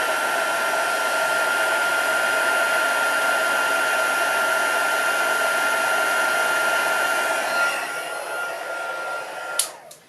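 Heat tool blowing hot air to melt embossing powder on a stamped card, a loud, steady whirring hiss close to the microphone that drops away near the end as it switches off.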